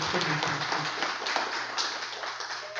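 An audience claps at a 2020 Gyeongnam unification strawberry-planting ceremony. The applause is a steady, fairly quiet wash of many hands lasting the whole moment without a break.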